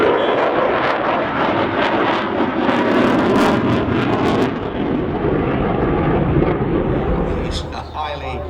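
A Eurofighter Typhoon jet performs a flying display at the Scottish Airshow, a loud continuous roaring engine rush that swells and fades over several seconds as it passes, with a commentator talking underneath.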